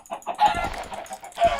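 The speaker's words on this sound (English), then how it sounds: "There's like a billion chickens down here." Many chickens cluck in quick, short bursts nearby in Minecraft, a cluster of clipped fowl calls with a brief pause between groups.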